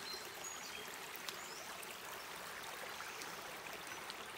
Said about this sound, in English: Right now that water is trickling, heading towards the Carmel River and then on to the ocean.